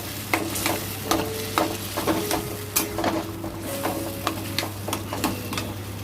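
Taro greens (kochur shaag) are stirred in a pan with a steady moist sizzle, while a spatula scrapes and knocks the metal in irregular close strokes over a constant low hum.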